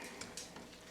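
A wooden or metal spoon stirs chili in a pot, a faint continuous scraping and simmering sizzle with a few soft knocks against the side.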